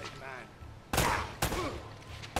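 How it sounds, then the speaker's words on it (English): Gunfire in Uncharted: Drake's Fortune Remastered, with two loud, sharp bursts close together and a smaller crack at the end, following a stretch of quieter in-game sound. "Who the frick is shooting me?"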